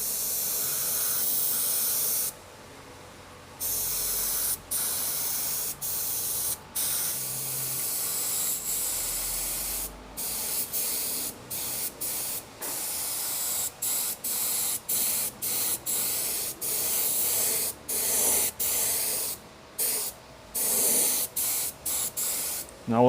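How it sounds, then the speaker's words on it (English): A paint spray gun lays clear coat over a small repaired car panel, hissing in repeated bursts of a few seconds each with brief silent gaps between passes, close and loud. "We've got some clear coat mixed up in this gun"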